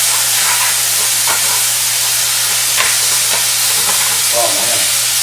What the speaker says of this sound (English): now we're going to go ahead and add our onions and tomatoes